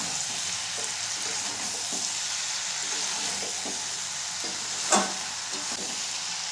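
Chili chicken fries in a pan over a medium flame, a steady close sizzle with rhythmic stirring scrapes and one louder spatula clank toward the end.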